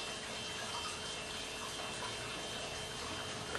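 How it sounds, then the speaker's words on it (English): Water is poured onto super snow polymer crystals, a soft, steady hiss of flowing liquid that stays faint and continuous with no voices. "we're going to add water to the super snow crystals, another type of polymer"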